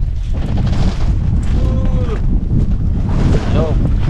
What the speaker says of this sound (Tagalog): Inaabot na naman ang malakas na hangin!